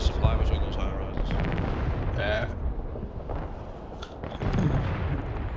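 Artillery fire and explosions rumble from a Broken Arrow battlefield, with repeated booms and crackling impacts over a noisy, dense backdrop, while a voice talks faintly underneath.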